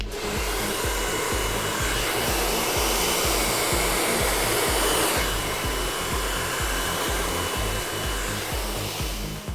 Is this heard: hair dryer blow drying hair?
yes